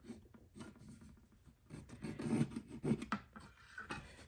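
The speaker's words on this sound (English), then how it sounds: "I take a scrap piece of wood and I simply mark out what I'm looking for" A pencil marking out a line on a scrap piece of wood in a workshop, a close, quiet scratching and rubbing that swells in short strokes, with no talk.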